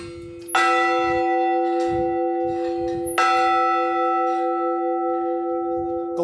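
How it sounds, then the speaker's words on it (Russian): Bells in a 28-metre village church bell tower in Kamenka ring out close and loud, two strong strikes leaving long sustained ringing tones that hang and slowly decay between hits. "Мелодичные перезвоны колоколов теперь слышны по всему селу."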